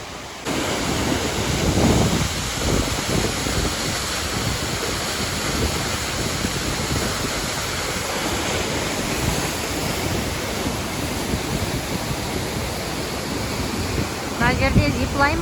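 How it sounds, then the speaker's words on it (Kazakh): A waterfall near Kutaisi, Georgia, swollen after rain, gives off a constant, full roar of crashing water, close and loud throughout, with brief voices at the start and end. "осы водопадқа келген кезде су жерге жетпейді. Қазір жетіп тұр, өйткені жаңбыр жауды"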